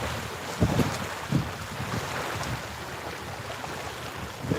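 A boat passes on the Cumberland River during a catfishing outing, a faint, distant, steady rumble of engine and water with a few soft bumps of waves lapping nearby.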